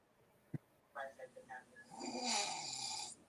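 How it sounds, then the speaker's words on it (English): A woman snores: a click and a few brief voiced sounds, then one long, rasping, breathy snore, fairly close and quiet. "hear my wife snore?"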